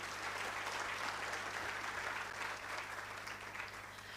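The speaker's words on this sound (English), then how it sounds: "Can you please give them a nice round of applause" Audience applause at a book launch for the Nnabagereka, a steady wash of clapping from a roomful of people, fairly faint and even throughout with no voices over it.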